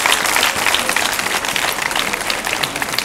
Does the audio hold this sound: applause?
yes